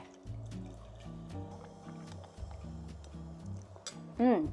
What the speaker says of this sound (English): And then let's just pour in the prosecco.